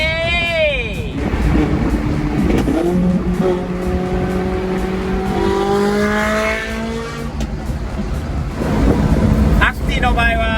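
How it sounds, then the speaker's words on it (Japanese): A Subaru Sambar kei truck in Fujiwara Tofu livery drives on a Texas highway, its small engine rising in pitch through repeated gear pulls over road rumble, close and loud, with a voice at moments. "かわいい藤原豆腐仕様の スバルサンバです。 テキサスを走ります"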